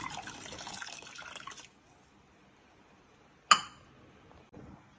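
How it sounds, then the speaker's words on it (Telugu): Drumstick leaf rasam poured into a tamarind and tomato pulp: a liquid pour and splash for about a second and a half, then quiet, followed by a sharp clink and a few softer drips and splashes near the end. "ఇప్పుడు ఆ చింతపండు టమాటా గుజ్జులో ఈ మునగాకు రసం కలిపేయాలి."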